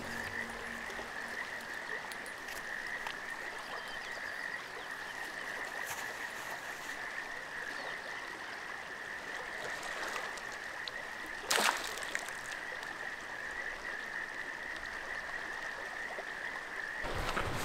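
Frogs croaking along a stream in the Sierra Nevada wilderness, a dense steady chorus of rapid calls over soft running water, with one brief louder splash or knock partway through.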